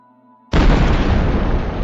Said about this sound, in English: I heard a big explosion, but I don't think it was ours.